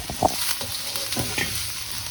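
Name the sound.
onion and garlic frying in oil for fish curry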